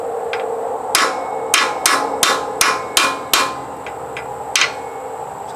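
Hammer blows ring out during repair of a Kuhn hay tedder, about nine sharp metallic strikes in an uneven rhythm, some in quick pairs, close and fairly loud over a low background hum.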